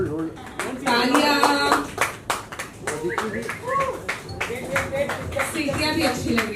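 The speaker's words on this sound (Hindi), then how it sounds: "You all can also clap." Audience clapping fills a pageant stage event as a new beauty pageant season is unveiled, steady applause with sharp hand claps, mixed with crowd voices and people talking over it.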